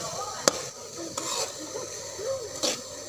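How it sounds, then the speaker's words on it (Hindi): A spoon stirs semolina roasting in a pan for halwa, giving a steady soft scraping hiss with a few sharp clinks of metal against the pan, heard close with no talk. "अब सूजी को अच्छी तरह भूनेंगे"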